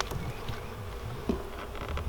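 Honey bees in a small colony of about three frames buzz around an open hive during an inspection, a faint continuous drone with a few louder passes close by.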